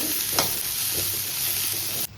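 Onion frying in a pan for a home chicken curry, giving a loud close steady sizzle with a couple of stirring scrapes, cutting off abruptly near the end, with no talk.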